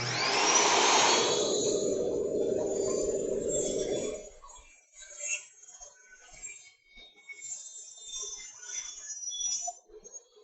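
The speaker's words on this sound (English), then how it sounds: "I wait till the blade just stops spinning" A table saw blade spins down after being switched off: a loud, steady broadband motor whine for about four seconds, then it cuts out abruptly, leaving only faint scattered workshop noises.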